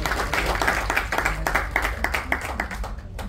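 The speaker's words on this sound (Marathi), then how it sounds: "एकदा जोरदार टाळ्या वाजवून त्यांचं स्वागत करतो" An audience at a solo stage performance about Savitribai Phule claps in a dense, steady burst of applause that slowly thins out toward the end.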